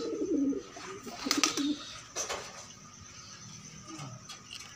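Pigeons cooing in a small enclosure, low rounded coos near the start and again mid-clip, with faint chirps and a bit of background noise.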